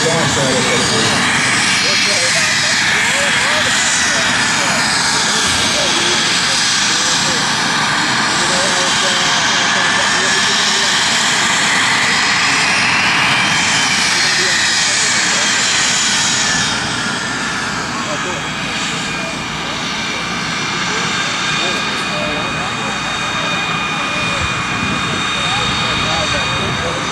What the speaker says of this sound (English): I don't think you'll be able to hear us talk while the L-39 is coming in